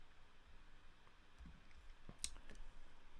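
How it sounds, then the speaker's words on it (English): A few faint, sharp mouse clicks on a save-and-close button in accounting software, clustered near the end in a quiet room with no talking. "Once I'm happy with this, I'm going to just click on save and close."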